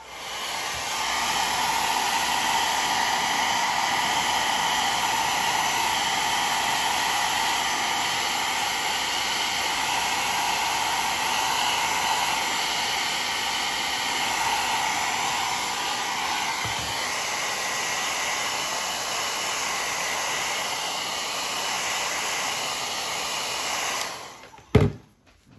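A hair dryer blows steady heat onto a waxed leather sheath, a loud, continuous broadband whoosh running uninterrupted for about 24 seconds before it clicks off with a brief thump at the end.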